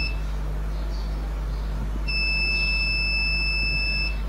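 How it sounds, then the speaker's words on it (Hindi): A water level alarm buzzer sounds for low water, a steady high-pitched electronic tone coming on halfway through over a constant low hum and continuing to the end. "तो इसमें पानी कम था और पानी कम होने पे ये बजर बजा था."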